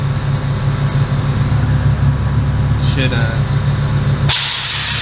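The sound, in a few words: Airlift 3P air suspension on a G35 adjusting to drive height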